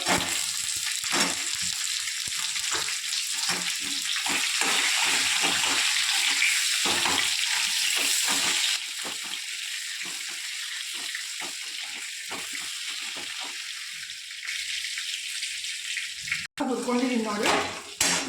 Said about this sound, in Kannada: ಬದ್ನಿಕಾಯಿ ಒಂದು ಹಾಕಿ ಸ್ವಲ್ಪ ಹುರ್ಕೋಬೇಕು